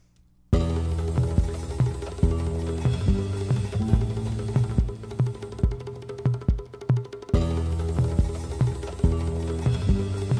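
A looped bongo roll repeats steadily, rapid hand hits rolling over a low thumping beat, loud and close, with a brief dip in the middle before resuming.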